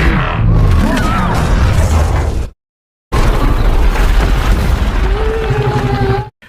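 Explosions from the Peacemaker film burst out in two loud, dense roaring blasts separated by a brief silence, with rumbling debris and clattering mechanisms beneath and faint dialogue mixed in.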